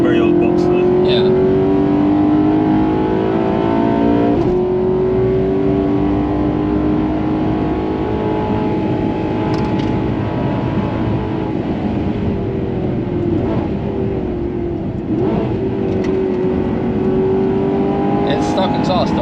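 A Maserati GranTurismo MC Stradale with an aftermarket exhaust drones loudly while driving, its engine note rising and falling through gear changes as people talk inside the car.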